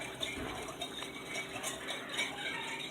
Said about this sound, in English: I'm going to get a whisk, and we're going to help this yeast dissolve here